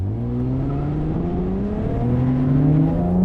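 A V6 car engine accelerating hard from a stop sign, its steady rising drone climbing in pitch over a few seconds, loud and close with no talking.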